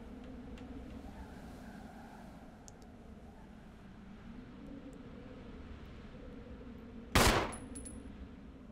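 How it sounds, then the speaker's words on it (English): A single sharp, loud gunshot cracks from the Resident Evil video game against quiet, low ambient game noise, followed by a short decaying tail. "I aim down and shoot at him."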